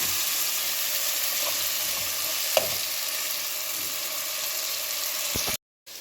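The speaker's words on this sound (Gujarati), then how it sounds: "તો આ બધો મસાલો વઘારે નાખવાનો બિરયાનીનો" Spice tempering sizzling in oil for biryani, a steady broad frying hiss with a few soft utensil taps and one brief clink, close and unbroken until it cuts off near the end, with no voices.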